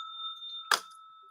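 A single bright bell ding, like a small bicycle-style bell, rings once with a sharp strike and a sustained clear tone that fades slowly in a quiet room.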